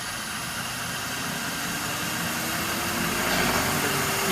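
A drill press motor driven by a variable frequency drive spins at 770 RPM, giving a steady, even hum and whir that holds constant and grows slightly louder toward the end, with no voices.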